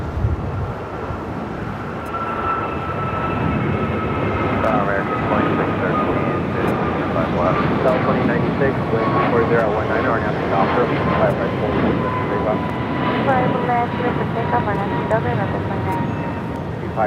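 A jet airliner roars steadily at Los Angeles LAX airport, loud and continuous, with air traffic control radio chatter running over the engine noise throughout.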